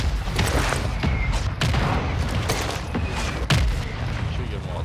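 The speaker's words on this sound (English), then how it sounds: "Hostile mortar strike in the area." Mortar strike explosions in Call of Duty: Modern Warfare II, a dense run of loud booming blasts and gunfire that roll on without pause, with one sharper hit late on.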